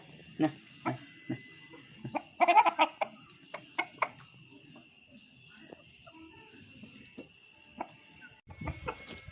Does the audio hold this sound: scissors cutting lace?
no